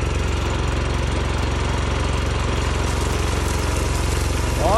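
The small gasoline engine of a gas tote sprayer runs at about half to three-quarter throttle, a loud, steady, buzzing drone close by with no pauses and no voices.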